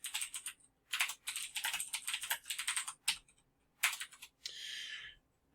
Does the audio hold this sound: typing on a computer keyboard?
yes